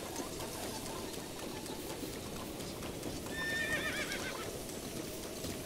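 Horse neighing and hoofbeats in the video game Zelda Breath of the Wild, played in Master Mode, with soft clip-clop and a short whinny rising near the middle over steady game ambience.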